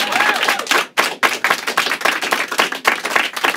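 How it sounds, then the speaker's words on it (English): Studio audience claps in a quick, rhythmic burst, close and lively, continuing steadily for a few seconds with no talking. "Let's give him a round of applause."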